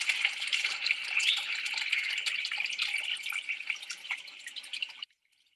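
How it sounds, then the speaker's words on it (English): Water trickles and drips steadily through a stone and plant soap-water filter tank in a garden setting, a close, continuous splattering patter lasting about five seconds before it stops abruptly, with no talking. "Allow the water to pass through this."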